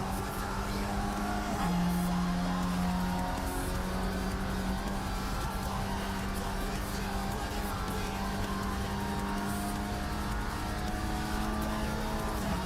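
An Opel Corsa race car in a racing video game drones steadily at high revs, its engine note shifting pitch briefly near the start, then holding a sustained buzzing tone with no pauses.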